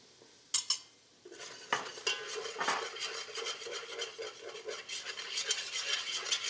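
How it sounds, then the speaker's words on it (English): A metal whisk works flour into hot oil for a Cajun gumbo roux, rapid scratchy clinking against the pot over a soft steady sizzle, with a couple of sharp taps at the start. "And now what we're gonna do is we're gonna whisk in our flour."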